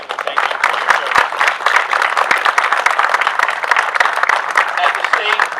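An audience applauds veterans at a ceremony, clapping close and busy with sharp individual claps; a continuous round with some voices mixed in.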